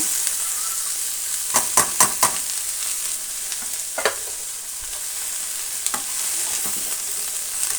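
Onion, cabbage and lentils frying in a pan for a cabbage palya, a continuous close sizzle with sharp scraping stirs clustered early and a few more later.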